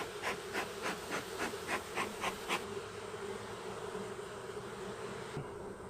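Honeybees buzz around a mini nuc hive: a steady insect drone runs throughout, with a quick series of rhythmic pulses early on that eases into a continuous hum, fairly close and moderately loud.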